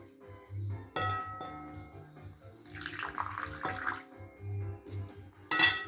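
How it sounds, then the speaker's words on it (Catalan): Water poured from a container onto cornstarch in a small classroom science experiment, a close splashing trickle that swells midway and ends in a brief clatter. "I ara un poc d'aigua."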